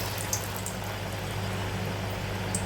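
Masala vada dough balls frying in hot oil, a steady low bubbling sizzle with a constant hum and a few faint crackles, no talking.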